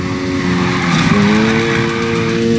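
Sustained tire squeal from a car held in a long drift in Need for Speed Heat, a loud steady screech whose pitch wavers and shifts midway over the engine.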